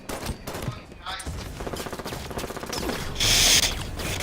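Rapid gunfire in the Halo 5 video game, bursts of mechanical clattering shots with a sharp high burst near the end, with players talking over it.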